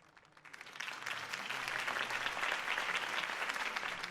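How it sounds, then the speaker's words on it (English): Crowd applause following a mayoral campaign speech in a Batman video game, swelling from quiet to a full, steady roar of clapping that carries on alone. "If only Mr. Wayne, my campaign's largest backer, could have heard that applause"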